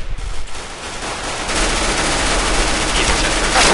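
Rapid gunfire in the video game Counter-Strike, a loud, dense, continuous stream of automatic shots that swells slightly toward the end, with no clear talking over it.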